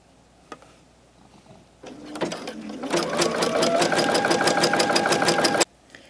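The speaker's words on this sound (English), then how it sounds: "you're going to stitch again on top of this elastic, stretching it as you go" A sewing machine stitches over elastic while it is stretched, making a fast, steady mechanical whirr for about three seconds after a few brief starts. The run is close and loud, with no talk.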